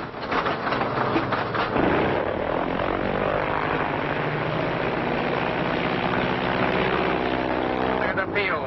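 Old serial-film airplane engine drones steadily in flight on approach to land, a continuous, moderately loud propeller hum with a muffled, band-limited quality that holds throughout without breaks.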